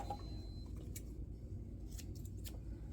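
Scissors snipping a yarn tail beside a circular sock machine while knitting a 48-stitch sock, a few quiet scattered clicks over steady low background hum.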